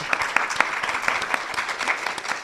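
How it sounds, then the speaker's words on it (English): Audience applause for a guest at a community event featuring nonprofits, restaurants and startups, with steady clapping throughout and a few sharper individual claps standing out. "Can we give Brian a round of applause for joining us?"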